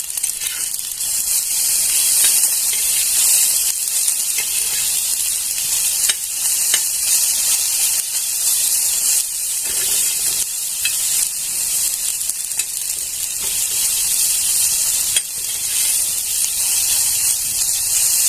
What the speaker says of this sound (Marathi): आता भेंडी आपण हलवून घेऊया फक्त उलटी पालटी करून घ्यायची आहे